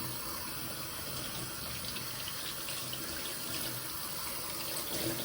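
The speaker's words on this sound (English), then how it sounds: "So what we're doing is just rinsing out any dye that hasn't stuck to the fabric" Cold tap water runs steadily into a sink, rinsing loose dye from tea-dyed fabric; an even, continuous splashing rush with no voices.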